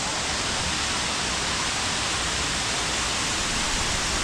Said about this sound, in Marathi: आम्ही पण वॉटरफॉल बघायला आलोय.